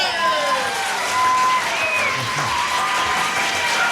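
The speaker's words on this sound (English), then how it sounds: "None of our other crowds applauds at that point" Audience applause at a fiddle music show, a steady broad wash of clapping that swells and holds for the full stretch, with a voice talking over it.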